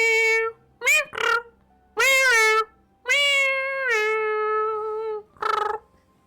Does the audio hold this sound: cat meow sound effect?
yes